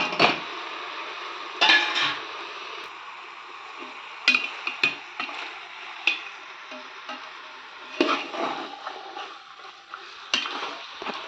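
Spoon scraping and clinking in a pan while chicken is stirred into masala, irregular metallic taps and scrapes over a soft frying sizzle, no talking.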